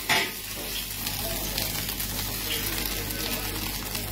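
Carrots and yardlong beans fry in oil in a pan for special fried rice in a restaurant kitchen, making a continuous broad sizzle with a brief louder burst at the start.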